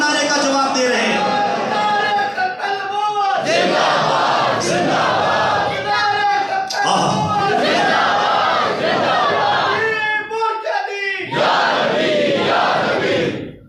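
Crowd of fasting worshippers at a Friday congregation in a mosque loudly chanting in unison in response to a slogan, several powerful rising and falling shouted phrases separated by brief pauses.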